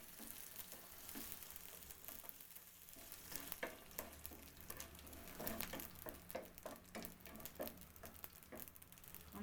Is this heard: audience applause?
no